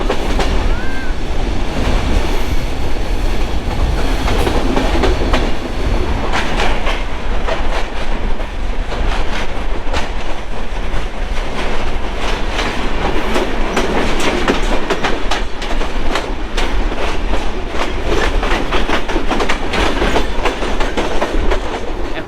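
The Ekota Express train rumbles loudly and continuously as it pulls away from Dhaka Airport station, with steady clickety-clack of wheels over the rails throughout.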